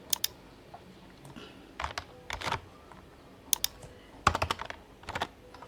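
Quick bursts of computer keyboard typing in irregular clusters of sharp, close clicks with short pauses between them, and no voice over the keystrokes.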